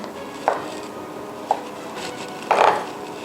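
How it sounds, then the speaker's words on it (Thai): A knife chops sausage on a cutting board, three separate diagonal cuts spaced about a second apart, the last one longer, close and fairly crisp. "เริ่มด้วยนี่เลยไส้กรอก แล้วก็จะหั่นให้เป็นแนวทะแยง"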